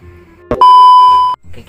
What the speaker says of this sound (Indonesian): Ya udah, sekarang kita coba telepon ya.